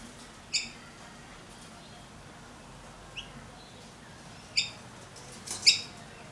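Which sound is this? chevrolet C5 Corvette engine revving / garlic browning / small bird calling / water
small bird calling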